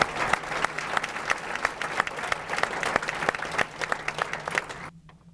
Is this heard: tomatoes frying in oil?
no